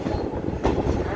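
A moving train rumbles steadily and close, with faint rhythmic clickety-clack of wheels over rail joints and a light squeal.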